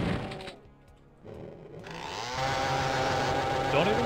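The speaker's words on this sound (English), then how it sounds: "Don't even curve, got my chainsaw." Chainsaw in the video game Doom, a steady buzzing engine drone that drops out briefly and then revs back up loud and sustained over game noise.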